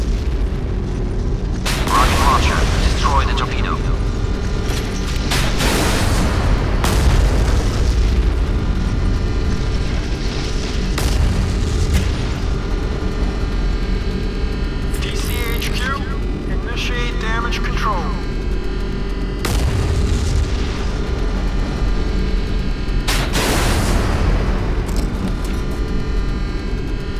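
Torpedo detonations in the naval combat video game Modern Warships, several deep booming blasts spaced seconds apart over a steady engine hum, with a voice speaking in between.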